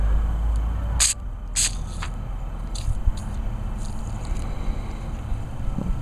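Seafoam Deep Creep cleaner hisses from an aerosol can onto a Briggs and Stratton Pulsa Prime carburetor in several short, close bursts over a steady low background rumble.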